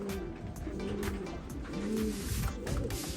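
Racing pigeons cooing at their home loft after a long race, a steady overlapping chorus of soft, throaty coos close by, with no talking.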